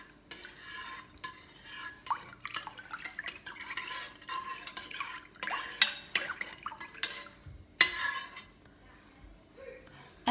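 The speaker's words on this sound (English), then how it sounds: "We'll give that a stir through." A spoon stirs milk in a slow cooker while making yoghurt, giving soft irregular scrapes and clinks against the pot, fairly close and quiet, with a couple of sharper knocks.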